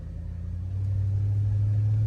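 A Chevy Tahoe's 5.3 LS V8, freshly fixed of a stalling fault, climbs in pitch as it revs up under acceleration, a close low drone growing louder and then holding steady.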